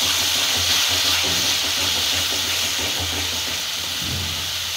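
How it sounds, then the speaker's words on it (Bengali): Spice paste for matar paneer fries in a pan with tomato paste, a loud continuous close sizzle and hiss with faint low clatter underneath. "তো এগুলো সব কিছু দিয়ে আমি এখন ভালো করে মশলাটাকে ভাজবো"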